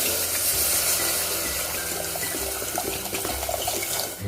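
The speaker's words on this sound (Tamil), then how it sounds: "இதில் நம்ம தண்ணி சேர்த்துக்கலாம்." Water being poured into a hot frying pan of cooking sheep intestines, a continuous splashing and gushing pour mixed with sizzling, steady and close throughout.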